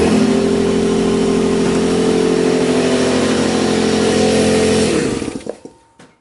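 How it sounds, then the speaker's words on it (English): A workshop air compressor runs loudly and steadily with a droning motor hum, then shuts off and winds down to quiet near the end. "I don't think anyone really wants to listen to the compressor, so we'll just turn it off"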